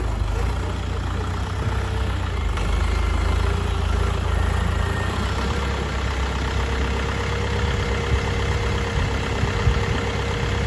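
Dongfeng 404 tractor engine running steadily during a test drive while plowing a field, a loud, continuous low diesel rumble heard up close without pause and with no talking.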